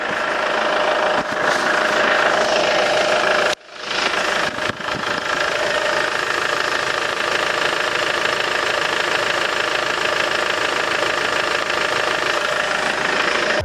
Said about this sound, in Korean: 엔진 소음 체크해 보도록 하겠습니다